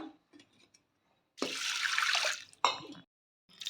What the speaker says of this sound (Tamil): குக்கரில் 1/2 கப் துவரம்பருப்பு போட்டு நல்லா அலசி எடுத்துகிட்டு வரேன்